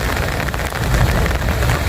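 Rain pours by the Brahmaputra river where people fish, a loud, close, steady patter across a couple of seconds with no voices.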